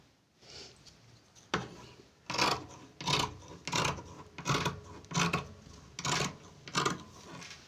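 Scissors cut through cloth for an umbrella lehenga, giving about eight close, rhythmic rasping snips against a quiet background.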